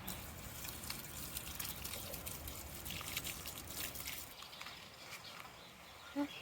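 Water trickles and pours steadily onto cucumber plants in an outdoor garden, a soft continuous splashing stream that eases off toward the end, with faint birdsong in the background.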